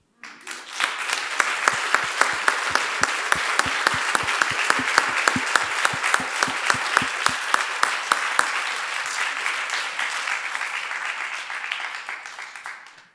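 An audience applauds at a talk event in New York, with dense clapping from a crowd and a few sharper, distinct claps standing out in a steady rhythm before the sound gradually fades near the end.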